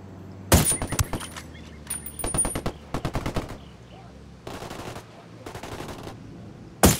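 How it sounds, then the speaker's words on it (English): Rapid automatic gunfire from the Ghost Recon Wildlands video game crackles in several loud, close bursts, some sustained and some clipped, separated by short lulls. "I've gone all quiet because I'm trying to concentrate on shooting these guys"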